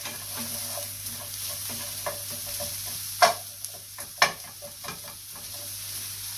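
Garlic and onions frying in a pan with a steady soft sizzle, broken by a few sharp clicks and scrapes of a utensil stirring, close by with no talking.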